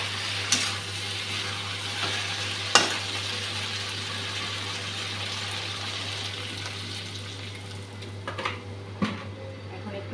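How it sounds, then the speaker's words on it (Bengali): Mixed vegetables with spices and green chillies fry in a pan, giving a steady broadband sizzle with a few sharp clacks of stirring, over a constant low hum. "এখন মশলাটা ভালো করে ভেজে নেব সবজির সঙ্গে।"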